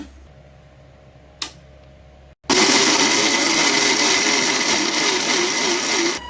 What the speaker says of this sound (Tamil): நம்ம மிக்சியில் போட்டு அரைச்சிடலாங்க.